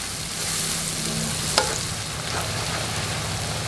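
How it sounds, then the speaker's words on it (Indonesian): Onions sizzling in hot oil in a pan while frying for green chili sambal, a steady loud hiss that continues throughout, with one brief clink of a utensil midway. "Kita goreng sampai bawang bombaynya sedikit layu."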